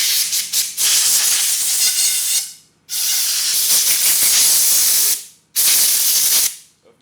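Pressurized spray of fuel or mineral spirits rinsing engine cylinder parts, three loud close bursts of hissing spray, each lasting a couple of seconds with brief quiet gaps between.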